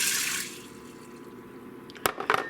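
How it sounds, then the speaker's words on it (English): A cup of water is poured into an Instant Pot holding half a cup of sorted, washed black beans, a brief rushing pour that fades, followed by a few small splashes and clinks. "To that, we're going to add 1 cup water."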